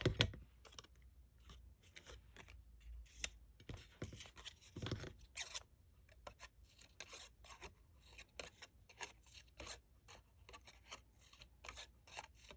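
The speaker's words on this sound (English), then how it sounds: "just cut slightly into it in between each petal" Scissors snip into paper peony flower petals in a fast series of short, crisp cuts, close and fairly quiet, with no talking.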